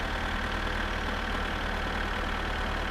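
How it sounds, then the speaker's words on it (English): A slow tractor engine in My Summer Car rumbles steadily with a low, even drone and faint knocking pulses. It stays constant and moderately quiet throughout. "this tractor is damn slow"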